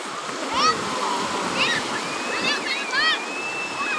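Sea surf at Cha-am beach in Thailand washes continuously in the foreground, overlaid by high, sweeping shouts or calls that rise and fall in several short bursts.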